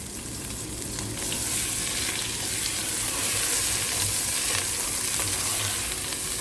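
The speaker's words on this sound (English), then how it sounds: "Now we have to fry in a medium flame till the moisture goes off." Coarsely ground green peas frying in coconut oil over a medium flame, a close, steady hiss and crackle that swells slightly and stays continuous with no voices.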